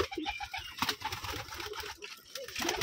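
Pigeons cooing in a loft at a pigeon farm, soft repeated throaty coos and light fluttering nearby at low volume, with no speech.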